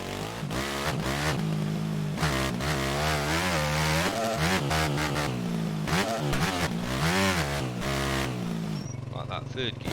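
Husaberg 501 motocross bike in the MX Bikes video game, its engine revving hard and continuously with rising and falling pitch through gear changes, loud and dominant throughout with a brief drop near the end.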